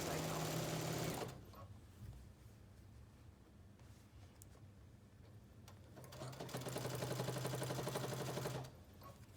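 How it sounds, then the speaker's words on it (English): A sewing machine edge stitching quilt binding, running in two loud bursts at the start and end with a quiet gap between, no talking. "I just edge stitch the edge of my binding as I go."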